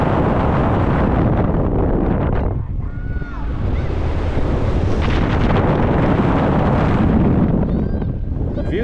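Blustery wind at the Flamingo Land resort roars across the microphone in loud, continuous buffeting gusts, with a brief lull midway and a faint voice buried underneath.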